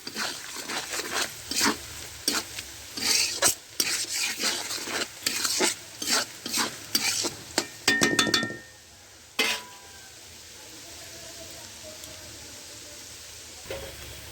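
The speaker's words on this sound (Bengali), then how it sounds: "নিম পাতা চিংড়ি মাছের সাথে আমি ভালোভাবে ভেজে নেব।" Prawns and neem leaves frying in a pan, stirred with a spatula that gives rhythmic clinks and scrapes against the metal, close and busy, then a softer steady sizzle once the stirring stops; no voices.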